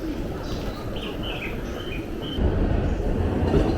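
Two trains arriving at and departing from a platform at Shinjuku Station, a continuous rumble of rolling wagons with faint high squeals that grows louder near the end, no clear voices.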